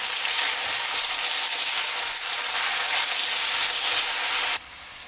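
Sliced onions sauté with salt in a pan for Indian-style chicken gravy, giving a loud, steady hiss and crackle of frying that holds constant throughout before dropping slightly in intensity near the end.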